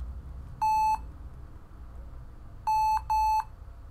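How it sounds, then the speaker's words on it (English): Three electronic beeps from a Lenovo ThinkPad T430 laptop entering BIOS, one alone then a quick pair, each a clean steady tone over a quiet hum. "Beeping like crazy."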